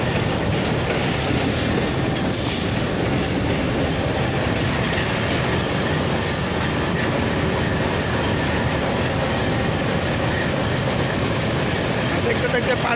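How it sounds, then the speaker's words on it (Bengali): The 733 Up Titumir Express rolls into Parbatipur Junction in Bangladesh with a loud, continuous rumble and rattle of wheels on rails, and brief squeals, while a voice talks faintly underneath. "ইতিমধ্যে ট্রেনটি পার্বতীপুর জংশন ইন করলো"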